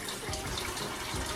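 Oxtails being rinsed in extremely cold water and shaken, giving a continuous splashing, gushing water noise close up with no clear talking.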